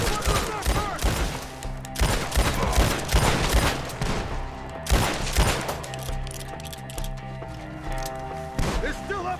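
Repeated gunfire from Red Dead Redemption 2, dense bursts of close shots through the first half and a few more later, mixed with shouting voices.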